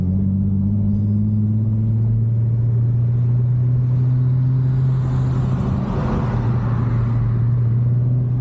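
An Infiniti G35 car engine rumbles steadily and deeply at close range, a continuous low throb that holds even throughout with no voices.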